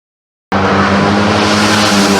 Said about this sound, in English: Coward has been riding hard in the company of Dunlop